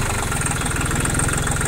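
A Japanese mini tractor with 1035 engine hours idles close by after starting: a steady, loud diesel rumble with an even rapid knock and a faint belt whistle.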